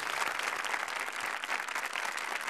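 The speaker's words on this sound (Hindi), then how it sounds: "आइए हौसला बढ़ाते हैं अनिल जी का जोरदार ताली अनिल जी के लिए" A studio audience on a Hindi reality TV show gives loud, sustained applause, a thick continuous roar of many hands clapping together with a faint crowd murmur underneath.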